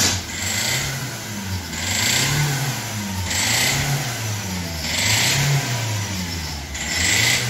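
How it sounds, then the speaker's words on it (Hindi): Diesel engine of a Hyundai i20, worn and pouring black smoke, revved again and again with a rising and falling roar and a rough knocking underneath, steady and close with no talking. "डीजल ज़्यादा पैस्टन के उपर स्प्रे कर रहा वा, तो इस करके टक टक की आवाज़ कर रहा वा"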